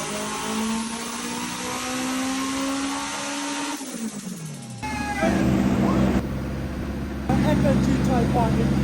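A high-revving engine in a Honda Civic EG fitted with a tuned FN2 Civic Type R engine of over 500 brake horsepower screams and drops, then revs again in sharp bursts with gear changes and crackles, loud and close.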